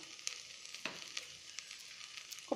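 Rice coated with masala stirred in a pan for plain biriyani, a soft sizzle with a few sharp scrape-clicks of the spoon, close and quiet, with no talking.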